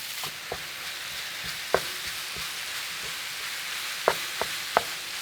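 Dangmyeon sweet potato glass noodles fry in a pan for pork belly dumplings, giving a steady broadband sizzle throughout, broken by a few soft knocks and scrapes of stirring, with no talking.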